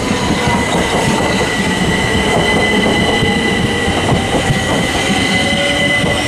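A Southeastern Class 375 electric train pulls out of Sevenoaks station, close and loud, with a constant rolling roar, high wheel squeal and rhythmic clickety-clack over the rails throughout.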